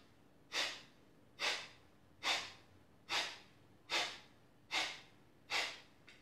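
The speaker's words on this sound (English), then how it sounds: "Short, sharp exhalation out the nose." Seven short, sharp nasal exhalations of a pumping yoga breath come close up at a steady rhythm of about one per second, each a quick airy puff that fades quickly in an otherwise quiet room.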